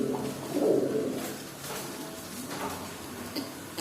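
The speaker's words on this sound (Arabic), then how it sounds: "في حمام هيبيض" Pigeons coo in a low, throaty murmur at a pigeon coop in Egypt, one fuller coo near the start and softer cooing and light ticks afterward, close by with no talking.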